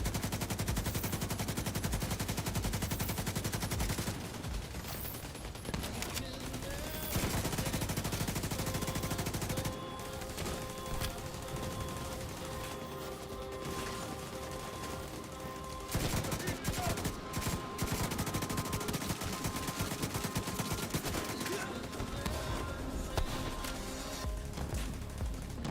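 Sustained light machine gun fire in The Division 2 roars in long, dense bursts of rapid shots with brief gaps between them, loud and close throughout, with occasional game voice prompts mixed underneath.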